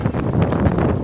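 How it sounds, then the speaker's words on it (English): Strong gusty wind blows outdoors in a winter storm, buffeting the microphone with rough, fluctuating roaring bursts throughout a short stretch. "Super gusty winds out,"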